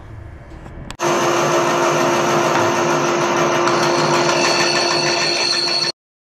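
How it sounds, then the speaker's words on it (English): Bandsaw cutting zebra wood: a loud, steady whirring whine starts abruptly after a second of quiet, holds evenly for about five seconds, then cuts off sharply. "Time to bandsaw."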